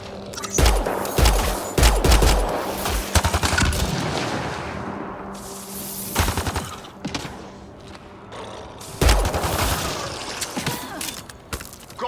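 Rapid bursts of gunfire and heavy thumping shots in the sci-fi shooter Mass Effect Andromeda, loud clustered volleys separated by brief lulls, with no voices over the combat.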